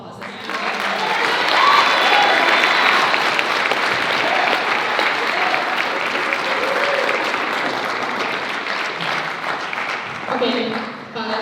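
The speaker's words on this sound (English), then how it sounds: "let's give them a round of applause" Audience applause at a poetry reading in a chapel: a dense, sustained wash of clapping that swells early, holds steady, then thins out near the end, with faint voices and a brief tone mixed in.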